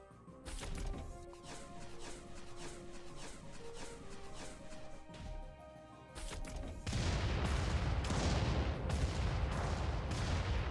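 Anti-air rockets firing in Front Mission 2, a mech strategy game: a loud, dense barrage of booming blasts that swells in the second half into a continuous roaring volley, with no voices over it.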